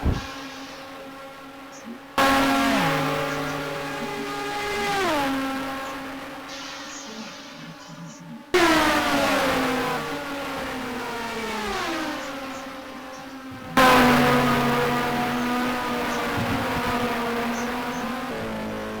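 Race car engines lapping the Monza circuit in the racing game GTR2, with a Matra among the cars, revving up and down through gear shifts, cutting off and restarting in three sustained high-pitched runs.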